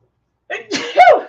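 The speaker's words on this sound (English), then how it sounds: "I'm about to sneeze." A single loud, close sneeze bursting out after a sharp intake of breath, from a person doing airbrush makeup.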